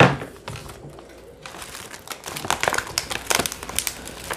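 Plastic mixing bag from a Polish military combat ration handled up close: a quiet rustle, then busy, loud crinkling and crackling that grows denser, no talking.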